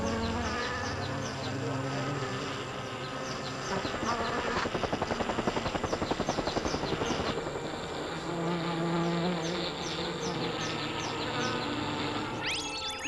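A dense swarm of bees drones loudly and continuously throughout, a thick buzzing with a rapid pulsing flutter in the middle stretch and no voices.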